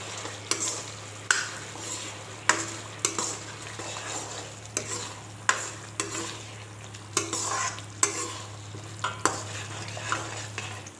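Spices and fish curry base are stirred in a frying pan, with a spoon scraping in regular strokes about once a second over a steady oil sizzle. The dish is fish cooked with poppy seeds.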